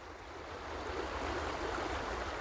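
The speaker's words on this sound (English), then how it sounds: "It's nice to come to this place and listen to the water running" River water runs steadily along a riverbank beside a walking trail, a dense, even rushing wash heard close and alone without any voices.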